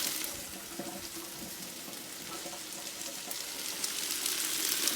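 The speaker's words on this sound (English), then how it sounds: "And I'm going to add a little bit more water." Water pours into a soup pot of potatoes, leeks and chicken stock, a steady close-up splashing rush lasting a few seconds.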